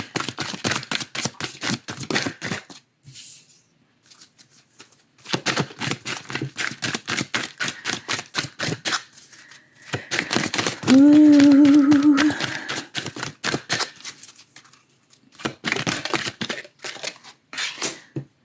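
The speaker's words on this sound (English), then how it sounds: "I just shuffle until the cards tell me to turn them over, or they just fly out of the pack" A deck of oracle cards is shuffled by hand in crisp, rapid flicking bursts separated by short pauses, with a brief hummed tone partway through.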